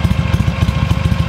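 A Buell XB12S Lightning motorcycle with its American engine thumps close by in a quick, steady, lumpy pulse of low beats, with no talk over it.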